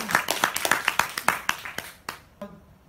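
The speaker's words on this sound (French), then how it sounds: "On peut les applaudir bien fort" A short burst of brisk hand clapping from a small group at a quiz game, fading out after a few seconds.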